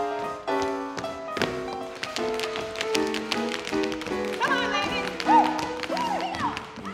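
Tap dancing in a Follies stage-number rehearsal, with rapid crisp taps and shuffles in a busy rhythm over a steady musical accompaniment.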